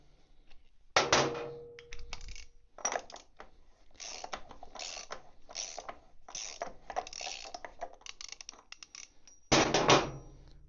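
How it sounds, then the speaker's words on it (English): Nuts being worked off a Triumph motorcycle with a ratcheting wrench: rapid close clicking ratchet bursts, light metallic taps and tool clinks, with a louder flurry of ratcheting at the start and again near the end. "now we are going to remove the nuts off here"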